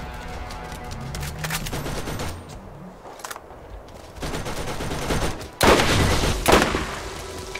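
A Gatling gun in Borderlands fires in loud, rapid sustained bursts, fading to a quieter lull midway before a sharper, heavier volley near the end.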